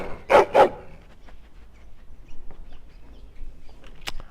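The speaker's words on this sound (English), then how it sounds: "Sorry, my dog came over and was just like, I want to be loved." A dog barks twice in quick succession, close and loud, then only faint background rustling follows.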